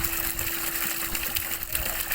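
Water gushing steadily from the 1.5-inch outlet of a 2 hp submersible pump as it is tested during installation, a continuous loud rushing and churning with a faint steady hum beneath.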